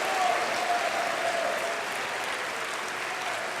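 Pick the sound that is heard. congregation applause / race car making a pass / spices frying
congregation applause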